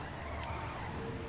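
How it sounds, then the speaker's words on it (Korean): A car drifts through an S-curve in Dragon Quest Builders 2, giving a continuous loud tire skid and engine hum under game music, with no pauses over the short stretch. "드리프트 S자"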